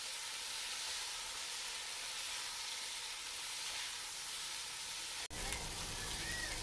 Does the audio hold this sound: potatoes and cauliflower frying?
yes